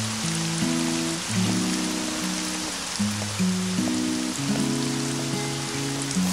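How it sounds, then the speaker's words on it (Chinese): Steady rain falling, a constant hiss of drops on surfaces with a tonal musical background layered over it. "下雨了。"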